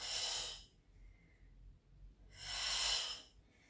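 Two heavy, breathy exhales during an abdominal exercise, close and fairly loud, separated by a quiet pause of almost two seconds.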